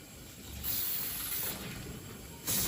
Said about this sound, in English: A little bit of brake cleaner, guys, to see if she'll pop off.